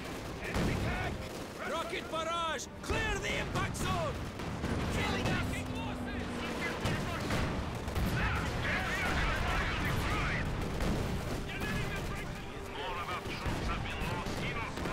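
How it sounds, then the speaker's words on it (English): An artillery barrage in Company of Heroes 2 sends continuous heavy booms and gunfire rolling through the whole stretch. Shouted voices and game dialogue run over the battle. "Barrage! Clear the impact zone!"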